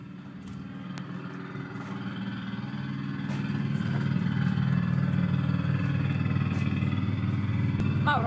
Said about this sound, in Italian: questo è un martello pneumatico attenuato di circa un quinto rispetto al